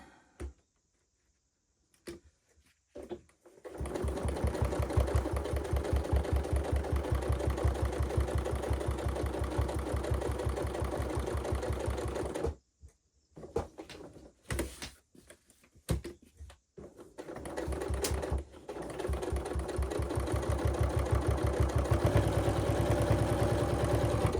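A sewing machine runs a long steady stitching burst along a dress seam, stops briefly for a few short bursts, then resumes continuous stitching.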